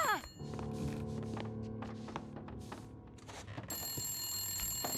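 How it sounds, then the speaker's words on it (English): An old telephone rings in repeated bursts inside a quiet building in the survival game The Long Dark, with a few thunks and footsteps around the rings and no talking. "the phone will ring"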